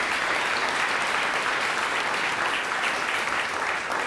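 An audience gives a big, steady round of applause for actors on strike with SAG-AFTRA, a dense, loud wash of clapping that holds evenly throughout with no talking over it.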